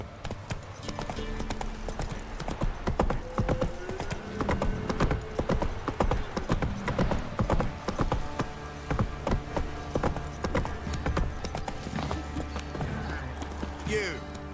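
Roach the horse clops steadily along in The Witcher 3, a continuous rhythmic run of hoofbeats over ambient game music and background sound, with a voice speaking to the horse.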